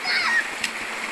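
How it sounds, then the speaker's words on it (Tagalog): Splashing water from people bathing in a river in Palawan, a short burst of splatter over a steady flowing-stream rush, with a voice briefly audible. "Maligo tayo sa ilog ng Palawan."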